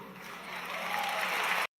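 A crowd applauding at a funeral service, steady broadband clapping that swells slightly and then cuts off abruptly, with no talk over it.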